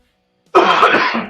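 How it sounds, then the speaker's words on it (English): A single rough cough or throat clear bursts out after a brief silence, close and loud. "he's not smoking or dabbing and he's coughing"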